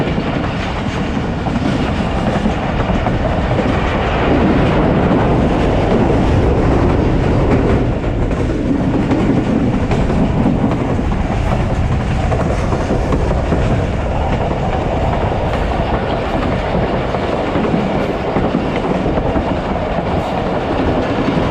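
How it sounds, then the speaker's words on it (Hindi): The Thal Express passenger train gradually slowing on the rails between Rawalpindi and Multan, heard from aboard as a loud, continuous rumble with rhythmic clickety-clack of wheels over joints and no talk. "इसके बाद फिर ट्रेन स्लो डाउन होना शुरू हो गया ग्रेजुअली"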